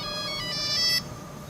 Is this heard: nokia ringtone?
yes